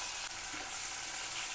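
Chopped onion and garlic fry in oil with cumin seeds for a tempering, a close, steady crackling sizzle with no talk.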